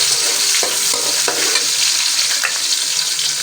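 Onions sautéing in a pan, a loud continuous sizzle broken by a few scraping stirs close up, with no talking.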